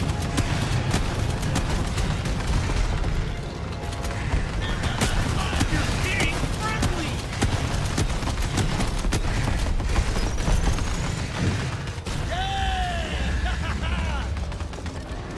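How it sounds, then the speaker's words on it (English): An under-barrel shotgun fires in the video game Synthetic Man amid constant mechanical clatter, rattling gunfire and busy game effects, with voices talking over the dense, loud mix. "it's under barrel shotgun"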